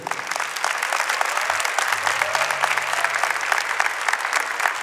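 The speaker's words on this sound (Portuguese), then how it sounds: "Podemos aplaudir o Senhor." A church congregation applauds at a Mass, steady many-handed clapping filling the space at moderate level, with a faint low hum from the room sound system running beneath it.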